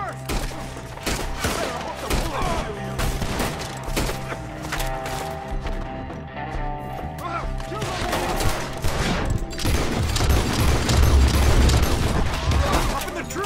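A sustained firefight in Red Dead Redemption 2, with rapid, overlapping gunshots and rifle cracks up close amid splintering wood and low booms, growing denser toward the end under occasional talk.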